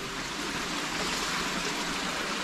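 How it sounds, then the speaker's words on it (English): Water trickles and runs at Cliff Cave, St. Louis, Missouri, a steady dense broadband rush from a spring or river seep, continuous and fairly close with no voices. "over here is where water, I'm assuming from the Merrimack River,"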